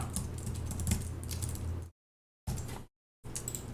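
Rapid clattering keystrokes on a computer keyboard, steady and close, in two bursts separated by silent gaps, with no talking.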